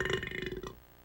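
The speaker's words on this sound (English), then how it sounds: "I burp in the face of adversity." A single loud, drawn-out burp, deep and throaty, lasting under a second before fading into quiet.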